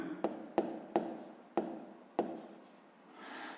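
Pen strokes on paper as a sixth-grade maths solution is written out: five sharp taps and scratches spaced about half a second apart, close and fairly quiet, with no talking.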